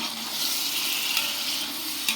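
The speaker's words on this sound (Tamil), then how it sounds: "எண்ணெய் ஊற்றி 1 கிலோ தக்காளி வெங்காயத்தையும் போட்டு நல்லா வதக்கணும்." A kilo of tomatoes and onions fry in hot oil for biryani, a dense, continuous sizzle with stirring, close and loud throughout.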